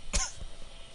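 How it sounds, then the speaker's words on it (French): A single short, close cough from a person who has a slight cough, followed by a quiet room. "Pardon, excusez-moi, j'ai un peu la toux."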